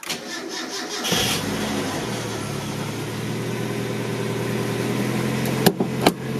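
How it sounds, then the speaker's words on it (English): A Mazda MX5 Miata 1.6L engine with an aftermarket header cranks and catches, then settles into a steady, rumbling idle close by, with a couple of sharp clicks near the end. "We're going to start it up and see if there's been any sound difference with this new header."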